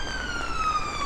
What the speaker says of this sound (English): I'll wait for this siren to go off.